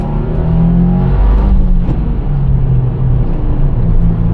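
A car accelerates hard in second gear on an open road, its engine note rising in a loud, sustained roar from start to finish, close and even, with no talk over it.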